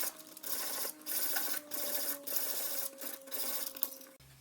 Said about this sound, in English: So I'll just sand a little bit more.